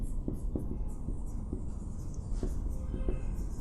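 Chalk or marker scratching and tapping on a board during a Laplace transform math lecture, a series of short strokes over a steady noisy room background, with no talk.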